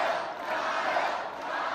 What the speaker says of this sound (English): and then the crowd screaming, chanting his name here.